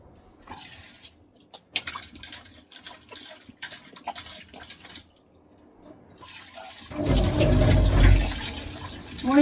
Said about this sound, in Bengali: মাছগুলো আমি ভালো করে ধুয়ে নিই বুঝছো আগে একটু ডোলে ডোলে এই করে ধুয়ে নিই